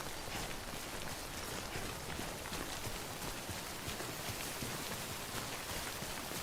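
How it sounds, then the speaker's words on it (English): Steady, dense rainfall in the video game Death Stranding, a constant hiss of drops on surfaces at even, moderate loudness throughout with no talking. "Okay, it's raining."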